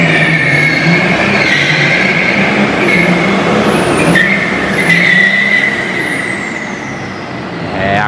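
Ford F150 pickup truck doing a burnout, engine roaring hard with a high whine from spinning wheels rising and falling, loud and close throughout.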